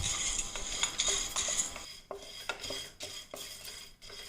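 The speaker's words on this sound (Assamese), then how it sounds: "এনেদৰেই কিছু সময় লৰাই লৰাই গুটিখিনি ভাজি ল'ম" A utensil stirs pumpkin seeds dry-roasting in a hot wok, a faint series of repeated scraping and rattling strokes against the metal, fairly rhythmic and close, with no talk.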